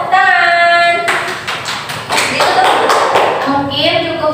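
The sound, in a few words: group clapping hands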